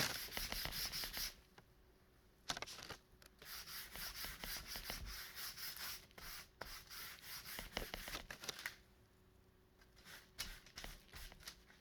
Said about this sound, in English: get your wax and start smearing